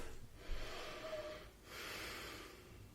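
Two long, slow breaths drawn in and out through the nose during a yoga flow, close but soft, each a broad airy rush with a brief pause between them and no talk over them.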